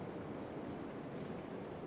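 A train in the Railroads Online video game rolls along its rails, a steady, quiet broadband rumble with no distinct clacks, continuous throughout.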